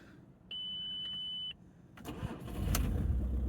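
A steady electronic beep sounds for a second, then an old diesel car engine cranks and catches, settling into a loud, rough, clattering idle nearby.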